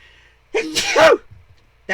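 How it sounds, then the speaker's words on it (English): A single sneeze bursts out loud and close, a short sharp breathy explosion followed by faint quiet sounds. "I'm gonna sneeze."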